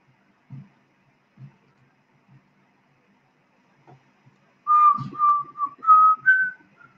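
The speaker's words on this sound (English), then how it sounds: "You hear me whistling, guys?" A person whistles a short melodic tune, several clear sustained notes in a row, preceded by a few soft low knocks.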